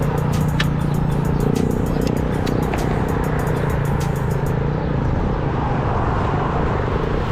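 Many cars passing on a road in Kuwait, heard from a cycle ride: a continuous loud traffic roar with rushing whooshes of passing vehicles and wind noise.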